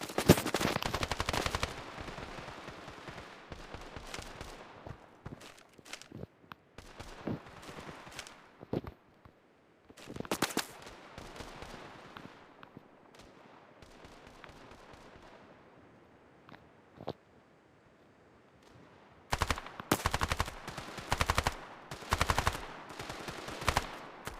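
Rapid gunfire in the mobile shooter Standoff 2: bursts of automatic shots and single cracks come in clusters, with a quieter stretch in the middle and dense volleys again near the end.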